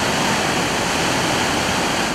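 The El Arenal river running high after heavy rain, a loud, steady, close-up rush of water with no breaks and no voices.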